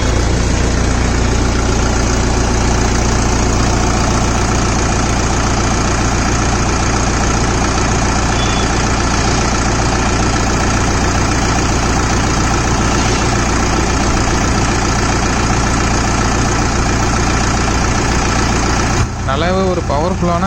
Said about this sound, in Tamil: ஒரு பவர்ஃபுல்லான 50 HP இன்ஜின் இந்த டிராக்டர் கொடுத்துருக்காங்க